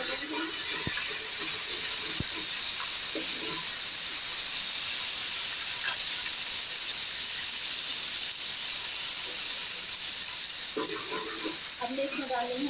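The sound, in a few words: spices being fried (bhuna) in a pot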